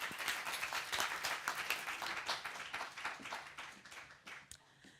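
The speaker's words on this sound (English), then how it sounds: "Please give them a huge round of applause." A forum crowd at the Mobility4Creativity Forum in Slovenia gives a sustained round of applause for speakers being introduced, steady clapping from many hands that thins out and tapers in the final second.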